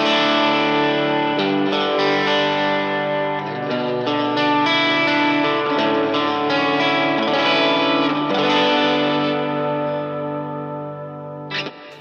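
An electric guitar plays sustained, ringing chords through a Specular Tempest reverb pedal on its first channel, with lush washes of reverb and delay letting the notes bloom and overlap, steady and loud with no voices.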